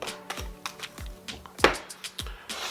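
Tarot cards, some from a Moonology deck, being shuffled in a quiet indoor room, giving a series of close, crisp taps and riffling slaps at an irregular rhythm with no one talking.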